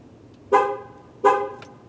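Two short, bright car horn chirps about three-quarters of a second apart, fairly loud and close, with quiet background between them.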